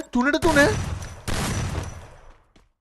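Woodpecker gun firing in a video game, heard as two loud, dense bursts of rapid shots lasting about a second each, right after a brief voice at the start.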